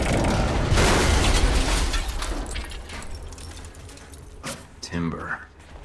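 Two explosions go off in the Alpha Protocol video game: a loud, sustained rumbling blast fills the start, then a second sharper burst comes near the end, followed by debris and clatter.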